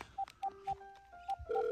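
Telephone keypad dialing tones: a quick series of short, evenly spaced beeps at varied pitches, ending with a longer steady tone, close and clear with faint background noise.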